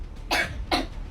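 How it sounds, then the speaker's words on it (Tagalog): Two quick, close coughs come about half a second apart, each a short raspy burst with quiet room noise between them. "tas umubo ka, oh"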